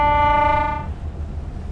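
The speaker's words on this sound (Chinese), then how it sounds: "这个发动机，我研究研究这发动机咋熄火呢" Fishing boat engine in a North Atlantic fishing simulation game, running as a low steady rumble. A sustained horn-like tone rides over it and cuts off partway through, leaving the engine drone alone.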